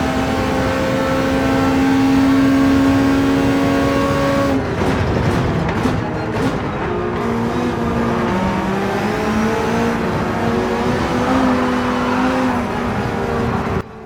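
Race cars in Gran Turismo 7 at Catalunya, loud high-pitched engines screaming side by side down the straight, shifting through gears as one overtakes, continuous and close with no talking.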